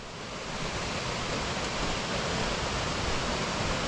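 Long Creek Falls on the Appalachian Trail, swollen after a month of rain, pours in a dense, constant roar of rushing water, loud and close, swelling slightly and then holding steady.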